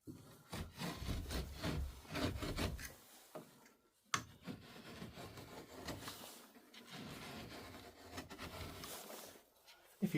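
A Stanley knife is drawn along a sheet of drywall, giving a close, dry scraping and rasping that comes in uneven strokes, with a short pause partway through and brief knocks.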